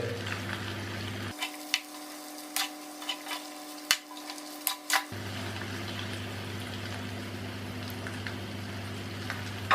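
Okra and potatoes stirred in a frying pan, a steady sizzle broken by a series of sharp spoon scrapes and clinks against the pan, with the sizzle dropping away briefly mid-stir before returning.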